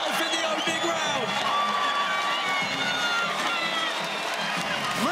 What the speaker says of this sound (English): Listen to the crowd explode for the young champion in Ty Ruotolo